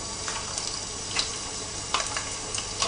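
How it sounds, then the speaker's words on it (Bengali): Chopped garlic and ginger sizzle steadily in hot oil in a wok, with a bright continuous fry broken by a few scraping stirs. No voices. "এখন এটার মধ্যে হালকা তেলটা গরম হয়েছে যখন, তখন আমি এটার মধ্যে রসুন কুচি আর আদা কুচি কিছুটা দিব"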